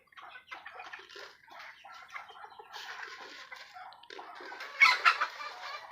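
Pet chickens and roosters cluck and call near the microphone at feeding time, a busy run of overlapping clucks with a louder burst of calls toward the end.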